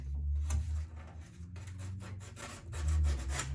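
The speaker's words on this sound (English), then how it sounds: "I guess I get some sandpaper and sand those two things. Just scuff it up a little bit." Sandpaper scuffs a vent pipe for a shower and whirlpool bath: steady rubbing strokes repeat close to the mic, with a brief pause partway through and no talk.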